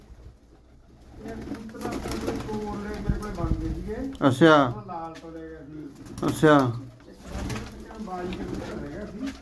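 Breeder pigeons coo in deep, rolling bursts close by, while someone speaks briefly over them.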